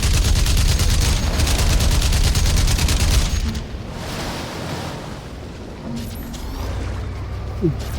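Rapid gunfire from the shooter game Crysis rattles densely for about three seconds, then gives way to a softer windy ambience with scattered faint distant shots.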